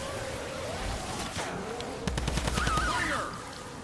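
Rapid bursts of gunfire from the Sunbeam Fire Typewriter in Fortnite, a quick run of evenly spaced shots over game music and effects, with a voice talking.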